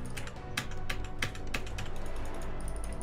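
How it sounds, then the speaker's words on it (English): Computer keyboard and mouse clicking during a PC game, with quick bursts of sharp, close taps and clicks at an uneven pace over a low, steady game background hum, no talk. "So if you hear a lot of clicking,"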